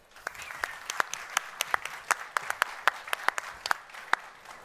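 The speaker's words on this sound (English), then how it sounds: "So would you please give a very large round of applause to the Minister of Higher Education and Science, Inna Halsboe-Jørgensen." An audience applauds at a Danish startup event for Labster, with steady, close, crisp clapping from a crowd of moderate size and no speech over it.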